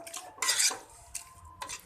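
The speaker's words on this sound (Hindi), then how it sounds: "अब पालक को हम अच्छी तरह से इसके साथ मिक्स करेंगे, यानी कि थोड़ा सा इसको भी भून लेंगे" A spoon scrapes and clinks against a cooking pot while spinach is stirred together with potatoes, a few short clattering bursts close by with quiet gaps between.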